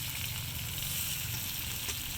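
Fish frying in oil in a pan, a steady close sizzle and crackle with no talk.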